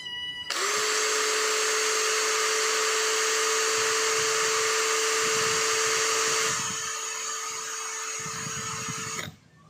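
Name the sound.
cordless impact drill CD334H running at speed setting 2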